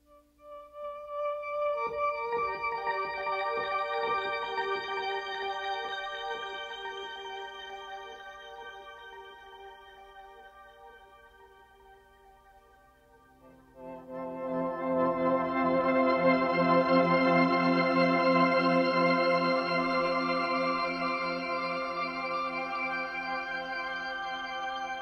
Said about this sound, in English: sometimes I'll add in this crystallizer in front of that, which sounds like this.